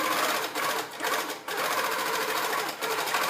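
A sewing machine free-motion quilting, stitching sashing with a ruler: a steady, close, fast whirring hum that keeps running for the whole stretch, dipping briefly a couple of times before carrying on.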